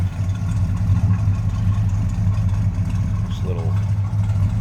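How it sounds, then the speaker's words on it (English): A 1972 Oldsmobile Cutlass S engine idles with a deep, steady, throbbing rumble close by, holding an even level throughout while someone talks briefly over it. "Car's got a nice idle, sounds good."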